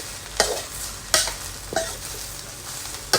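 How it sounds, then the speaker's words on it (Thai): Mackerel chili paste is stir-fried in oil in a pan, heard as a steady close sizzle broken by several sharp scraping stir strokes at irregular intervals. "ผัดผัดใส่น้ำมันนะทุกคน"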